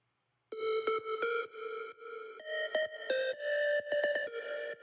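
An aggressive, harsh synth lead patch called Music Core Lead Harsh plays bright, buzzy sustained notes and short stabs in a progressive house style, with choppy rhythmic gating, alone without voices.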